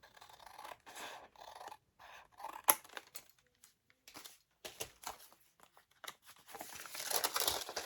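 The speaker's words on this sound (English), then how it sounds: "So I'm going to cut this envelope." Scissors snip and scrape through the end of a paper envelope while making a junk journal, giving a series of short crisp cuts with paper rustling and crinkling, close and fairly quiet, ending in a louder burst of handling.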